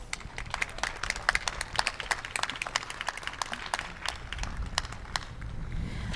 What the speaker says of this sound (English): We can give everybody a round of applause.